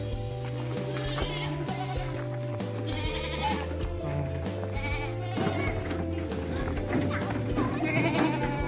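Female Dere goats bleat at a goat farm pen in Malang, Indonesia. The calls are repeated and overlapping against a dense, steady background.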